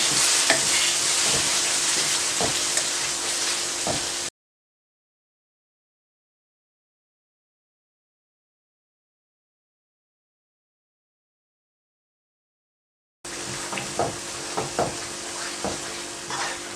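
Carrot and semolina halwa cooking with milk in a pan, a steady close sizzle with stirring scrapes, broken by a long stretch of complete silence before the sizzling and stirring resume.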